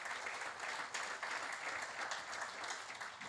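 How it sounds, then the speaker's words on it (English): Audience applause at an awards dinner, a sustained steady wash of clapping from a large crowd, loud and continuous throughout with no voices over it. "So please give a big round of applause to Donna."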